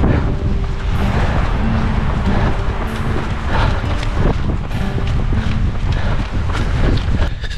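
Strong, gusty wind buffets the microphone during a marathon along Loch Rannoch in October, a loud continuous roar with rough surging texture that never lets up.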